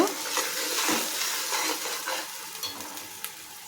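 Fish curry masala bubbling and sizzling in oil on a stove at medium heat, a steady close sizzle with occasional scraping stirs and light clinks of a pan.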